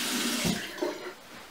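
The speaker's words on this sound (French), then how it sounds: "on vient de nouveau rincer." Tap water splashing as a face is rinsed at a sink, a short close burst of running and splashing water that swells briefly and then fades, with no talking.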